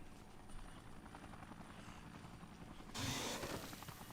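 A helicopter in the video game Dead Rising, its steady rotor chop and engine whine thrumming continuously, growing louder and brighter for the last second or so, with no talking.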